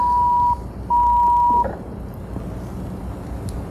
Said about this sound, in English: Oh, it's the Jan Brady phone